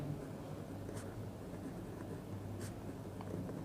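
A pen or marker scratches across a board during a maths lesson, faint short strokes over a steady low room hum, with no talk heard.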